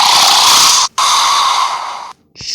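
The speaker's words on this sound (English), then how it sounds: "snore" Snoring sound effect: two loud, breathy, rasping snores with a short gap between them, close and isolated, followed by a softer breath at the end.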